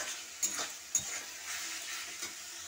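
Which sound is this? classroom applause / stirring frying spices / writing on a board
stirring frying spices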